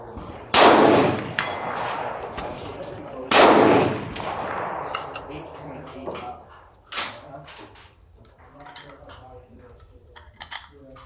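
A CZ 527 rifle fires two sharp, loud shots at an outdoor shooting range, each followed by a ringing decay, with people talking nearby between and after the shots.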